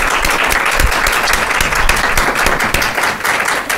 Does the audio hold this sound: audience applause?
yes